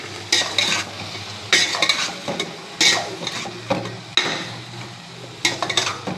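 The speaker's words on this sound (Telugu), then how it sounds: "బాగా కలుపుకుని" A spoon stirs ridge gourd and meal maker curry in a metal pan, with repeated close scraping strokes and clinks against the pan, separated by short pauses, under a soft sizzle.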